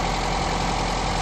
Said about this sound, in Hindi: इंजन को बंद कीजिए।